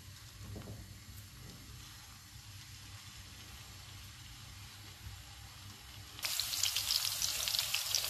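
Meatballs frying in extra virgin olive oil in a pan give a low, steady sizzle and hiss, which turns suddenly brighter and louder toward the end as the spattering picks up.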